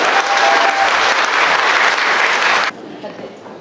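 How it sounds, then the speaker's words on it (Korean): Loud, dense applause from a crowd of about 1,500 at an apartment redevelopment briefing in Bucheon, sustained for a few seconds before dropping off suddenly to quieter room noise. "장성철 의원께 큰 박수 부탁드리겠습니다."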